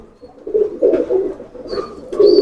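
Sherazi teddy pigeons coo in low, throaty bursts, several rolling calls close by, with a faint higher tone sounding briefly near the end.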